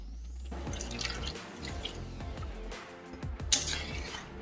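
A little water splashes and drips into a bowl of poppy seed paste in a home kitchen, a close, wet trickle with soft splatters.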